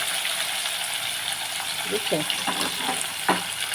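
Small washed fish fry in hot oil in a home kitchen, a steady bright sizzle with a few clattering stirs and scrapes near the end.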